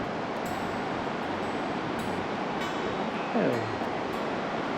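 A mountain stream in Chiang Mai during the rainy season rushes past in a steady, unbroken wash of water, close and even throughout, with a brief faint voice-like sweep near the end.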